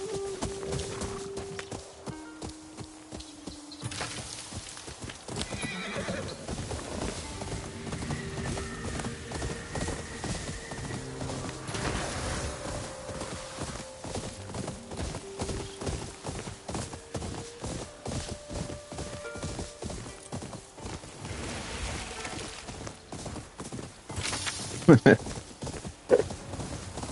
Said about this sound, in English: The horse should be running towards me.